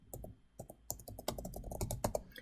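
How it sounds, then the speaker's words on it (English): Fingers type on a computer keyboard, a quick, uneven run of soft, close key taps and clicks over a couple of seconds, with no voice. "So I'm going to go ahead and type in professional."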